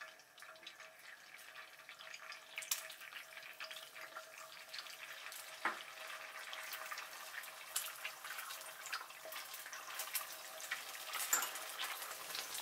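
Eggs frying over high heat in four tablespoons of hot oil while being basted, a quiet continuous crackle with occasional sharper pops and no voices.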